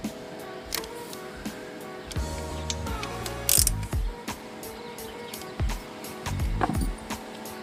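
Ratchet tightening the replacement starter gear on a Craftsman lawn tractor, close and fairly loud: quick mechanical clicks and short bursts of metallic ratcheting in several separate runs, with brief pauses between them.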